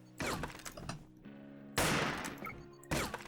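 Bursts of sprayed automatic gunfire from a shooter video game, three loud, sharp volleys of rapid shots separated by short lulls with lower mechanical tones, the middle burst strongest and the last cut short.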